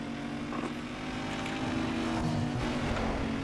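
Car engine revving and racing in Need for Speed Underground 2, a steady sustained engine roar holding at moderate loudness with no voices.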